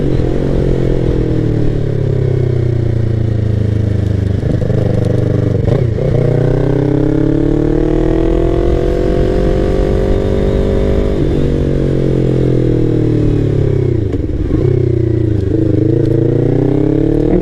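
A Yamaha MT-03 motorcycle with a 321cc parallel twin engine is ridden close up, its loud engine note rising and falling as it revs and shifts, with wind buffeting throughout.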